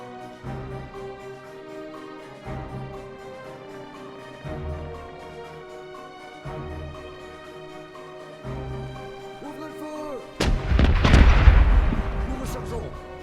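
Video game gunfire booms at a steady rhythm roughly every two seconds, then a much louder, longer explosive barrage erupts near the end.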